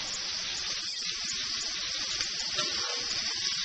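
Onions tossed into a hot skillet for Mexican picadillo give a steady, bright hiss of sizzling fat, close and even, with no talking.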